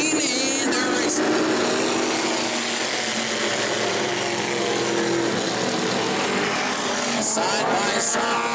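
Race cars roar together off the start of a heat at New Smyrna, a loud, dense engine drone that surges and holds steady throughout, with no clear talk over it.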